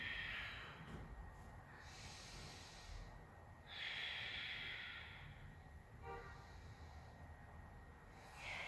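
Slow, deep yoga breaths during a yin yang session, long audible inhales and exhales through the nose at close range over a soft continuous background hiss.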